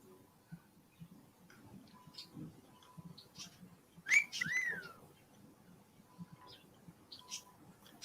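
A pet bird whistles a short rising-and-falling note near the middle, fairly clear above a quiet room with faint background noise and a few soft ticks.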